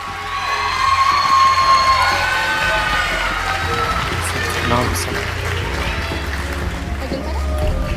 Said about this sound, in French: Applaudissez bien fort vos 10 finalistes